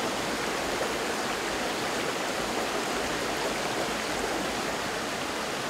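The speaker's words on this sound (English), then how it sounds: "listening to the murmuring sound of the flowing water" A stream of flowing water murmurs through a valley near Chungju, South Korea, a steady, full rush that stays close and constant with no voices and no other sounds.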